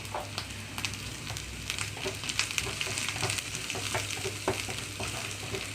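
Ginger, garlic and turmeric frying in a pan on high flame: a continuous crackling sizzle with scattered sharp pops and spatters, steady and close, with no voices.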